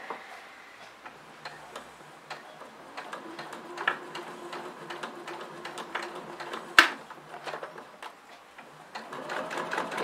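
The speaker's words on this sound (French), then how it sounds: "je couds comme ça tout le tour" A sewing machine stitches slowly around the edge of a fabric tissue box cover, a steady run of close, rapid ticking stitches with a brief louder clack midway and a denser burst near the end.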